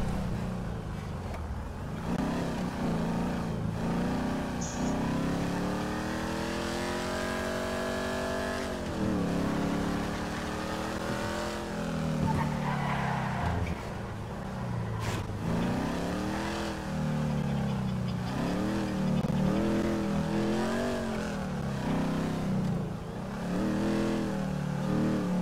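Car engine in GTA roleplay revving and shifting pitch as it drives, with rising and falling whines sustained throughout at steady loudness.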